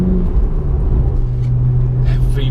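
A BMW 1M's engine rumbles low and close while driving, with a steady throttled drone that builds slightly toward the end; a voice is heard briefly over it.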